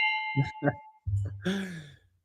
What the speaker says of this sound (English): Ring the bell, baby.